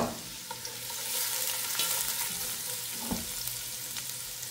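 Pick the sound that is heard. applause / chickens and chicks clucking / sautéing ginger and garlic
sautéing ginger and garlic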